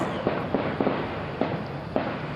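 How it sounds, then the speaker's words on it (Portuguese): Gunshots ring out in the Rocinha favela, four or five sharp cracks spaced irregularly across a steady background din, moderately distant and not very loud. "O barulho dos tiros tomava conta do mundo."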